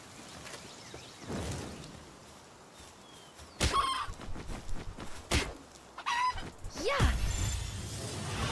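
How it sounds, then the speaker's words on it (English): Chickens in the video game Palworld cluck and squawk in scattered bursts over a low background hum, the calls irregular and fairly close, with no talking. "so I already have 10 chickens"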